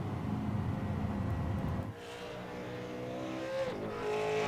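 Super Late Model race cars at New Smyrna in the iRacing video game roar loudly with engine drone for two seconds, then thin out to a quieter hum as a car revs and a tire squeals near the end.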